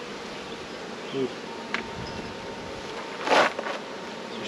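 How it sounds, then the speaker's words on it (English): Honeybees buzz around an open beehive with a soft, continuous drone, as a few louder bees pass close by. Someone gives a brief exclamation. "There's plenty of bees up here"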